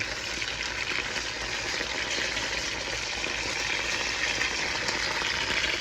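A steak fries in a cast iron pan on an uneven stovetop, giving a steady, loud, close sizzle with no break and no voices.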